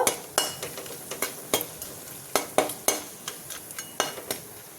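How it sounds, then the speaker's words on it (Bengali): Dried red chilies, cardamom and cinnamon frying for a tempering in a pan, with a series of sharp spoon-on-metal clacks in an irregular stirring rhythm over a quiet background sizzle, close and fairly loud. "তো আমি এবার ফোড়নটাকে একটু ভাজা ভাজা করে নেব।"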